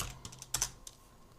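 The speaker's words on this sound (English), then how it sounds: "let's press tab and type color" Brief burst of typing on a computer keyboard during 3D software work: a handful of quick, light key clicks in an uneven run, close and quiet, with no voice.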